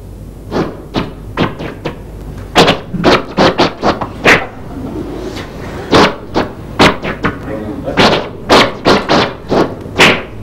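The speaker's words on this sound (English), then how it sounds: "taking white noise, remember we had that at the beginning, and you chop it up into little bits" Sharp bursts of harsh white-noise hiss, chopped into short pieces that fire in an uneven, stuttering rhythm with brief gaps between clusters.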